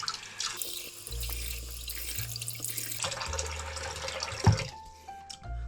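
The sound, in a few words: tap water running while washing face with cold water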